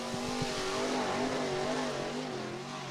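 An IMCA Modified race car engine roars steadily nearby during qualifying at Cottage Grove Speedway, its pitch wavering slightly as it holds high revs, with no voices.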